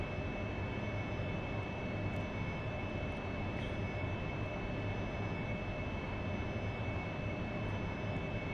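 An AV-8B Harrier jet engine in the DCS flight simulator spooling up at night, a dense, constant roar with a steady whine held evenly throughout.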